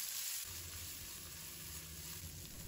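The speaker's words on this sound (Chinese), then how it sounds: "翻炒出香味。" Ginger, garlic and chili sizzle steadily in hot oil in a wok, a close, continuous frying hiss with faint stirring underneath.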